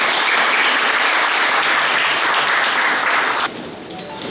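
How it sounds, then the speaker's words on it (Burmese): A church congregation applauding at a wedding, dense loud clapping from many hands that drops off sharply near the end. "ကျွန်တော်လက်ခုပ်တီးမှဆုစုရအောင်"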